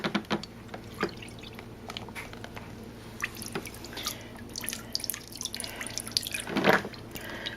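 Drained motor oil mixed with gasoline from a Suzuki DR650 crankcase drips from a pan in faint, irregular close drops over low background noise.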